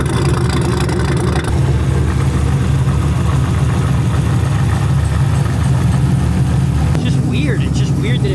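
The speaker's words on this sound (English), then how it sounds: "Oh, it's the blower, bro." A running engine fitted with a Whipple supercharger drones loudly and steadily at idle, its blower adding a constant whine, with voices talking close by over it.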